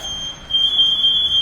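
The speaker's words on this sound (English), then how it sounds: "What you guys are hearing is a pass alarm." A firefighter's PASS alarm gives off a loud, piercing, steady high-pitched electronic tone that holds unbroken, with a low rumble of background noise underneath.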